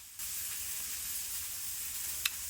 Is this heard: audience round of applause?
no